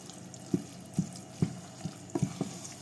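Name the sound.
stirring pasta in a pan until creamy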